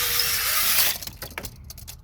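A spinning drill bit is drawn back out of a bore while still turning, giving a loud, bright whine for about a second that then gives way to quieter scraping and tapping.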